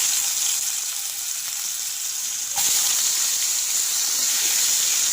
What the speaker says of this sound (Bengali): লাল লাল করে আলুগুলো ভাজবো।